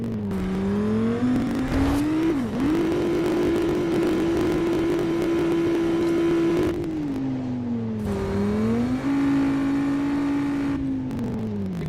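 Race car engine in the video game Apex Rush, a steady loud drone whose pitch dips and climbs again as the car leaves the ground and lands, running continuously for the whole stretch with no talk.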